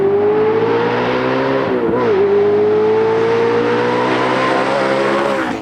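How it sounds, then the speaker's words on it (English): A Lamborghini fitted with an Armitrix titanium valved exhaust holds a loud, close, sustained rev, the engine pitch dipping briefly near the middle before climbing and settling again, with no voices. "we're going to take the opportunity to install our brand new Armitrix titanium valved exhaust"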